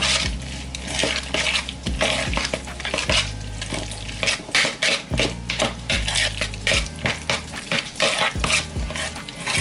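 A spoon stirs and scrapes crab cake ingredients with lemon juice in a bowl, steady clinks and scraping strokes repeating close up with no talking.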